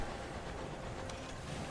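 Steady rumbling train noise from the video game Sunless Skies, a broad continuous low rolling drone with faint clatter, heard alone and fairly quiet.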